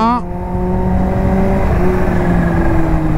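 A Kawasaki H2 motorcycle accelerates, its loud engine note holding steady and then climbing in pitch as the revs rise, close and continuous throughout.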